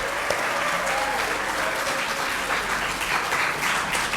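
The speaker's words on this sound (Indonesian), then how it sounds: "Mari kita beri tepuk tangan yang meriah untuk pembicara kita." Seminar audience applauding a speaker at a university literature event, a steady, moderately loud roll of many hands clapping together without a break.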